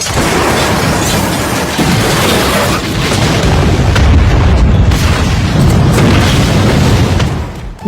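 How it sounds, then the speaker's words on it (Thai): A boat explodes in an action movie with a loud, sustained rumbling blast of booms and crackling debris that rolls on for several seconds, with no talk over it. "เรือประจันบานก็ระเบิด"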